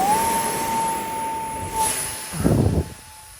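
A hand-launched stealth-style model aircraft flies outdoors in wind, its electric motor giving a steady, high, sustained whine over a constant rush of wind noise, with a brief louder buffeting burst near the end and no talking.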